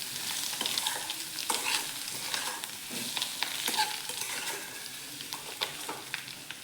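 Egg bhaji with fresh coriander sautéing in a pan, a steady bright sizzle with frequent short scrapes and taps of stirring, close by and without any voices.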